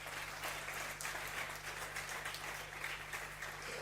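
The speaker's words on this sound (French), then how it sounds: "Est-ce qu'on peut donner une acclamation à Jésus?" A church congregation applauds in praise of Jesus during a French-language worship service, a faint, continuous patter of clapping from a crowd with a low steady hum beneath it.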